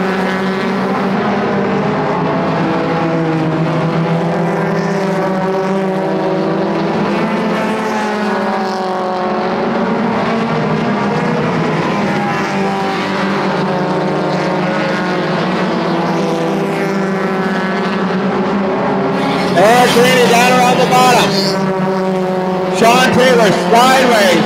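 Mini stock race cars lap Sunset Speedway, their engines making a continuous loud drone that rises and falls under steady race commentary.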